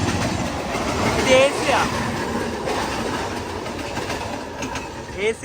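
A WG-12 locomotive hauls a train past Vasai Road railway station, a loud, continuous rumble and rhythmic wheel clatter close by, with some voices in the background.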